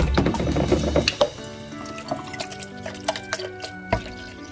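Cold water is poured into a milk-and-egg homemade fertilizer mix: a full, steady pour for about a second, then scattered close drips and splashes trickling into the container.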